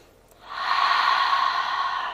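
A deep, steady yoga exhale, a broad breathy rush that swells after a quiet start and holds strong and close for about a second and a half, alone with no talk.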